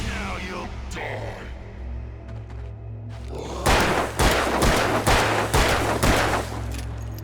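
Gunfire in the game Alan Wake: after a low droning hum, a run of five or six loud, close shots rings out at a steady, fairly quick pace over the constant background rumble.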